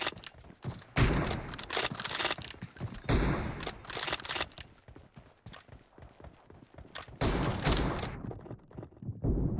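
Rifle shots from an M24 sniper rifle ring out in a shooter game's warehouse team deathmatch, several loud sharp reports spaced a few seconds apart with echoing tails.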